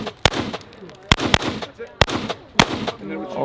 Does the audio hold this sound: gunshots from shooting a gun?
yes